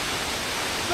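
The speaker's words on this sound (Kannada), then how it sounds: "ಕ್ಯಾಮ್ರಾ ಕಣ್ಣಿಗೆ ಹಿಂಗೆ ಕಾಣ್ತಿದೆ ವಾಟರ್ ಫಾಲ್ಸ್" Tad Yeung Waterfall in Laos roars as a steady, dense rush of falling water, loud and continuous for a brief moment with no other sounds.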